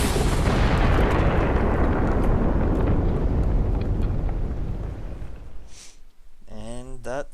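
A video game explosion in a fantasy battle defending Shaemoor booms loud and sustained, a broad roar that slowly fades over several seconds before a brief quiet and a burst of game voice or effects at the end.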